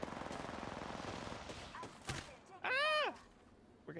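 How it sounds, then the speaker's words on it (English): Gunfire from another team in a video game, a rapid burst of shots early on fading under game noise, followed by a short warbling electronic tone, with talk over parts of it. "they're getting shot by another team"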